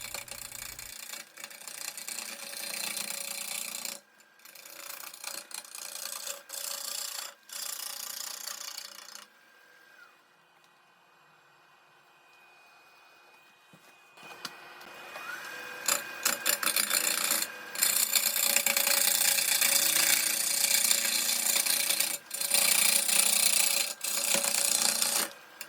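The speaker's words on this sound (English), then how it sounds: "I'm predominantly just going to use push cuts." Wood lathe push cuts turning a branch burl vase, a loud rough scraping rasp in long bursts with brief gaps, then a quieter stretch before the harsh cutting resumes even stronger.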